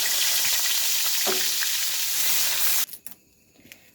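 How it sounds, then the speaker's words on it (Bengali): Onion paste hits hot oil for a koi fish curry, giving a loud, steady sizzle with a soft stirring scrape. After about three seconds it drops away to near quiet. "দিয়ে দেবো পেঁয়াজ বাটাটা"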